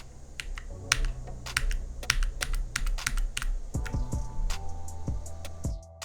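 Rapid bursts of close computer keyboard clicks as Cinema 4D shortcut keys are pressed, irregular clusters of crisp taps with brief pauses, no voices.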